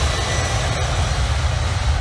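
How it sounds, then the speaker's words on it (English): A Boeing 747 with four CF6 engines at full takeoff thrust on a heavy departure from Manchester's runway 23L. It makes a loud, steady, broadband jet roar with no pauses. "A textbook heavy lift departure, Boeing 747, fully powered, launches from Manchester's runway"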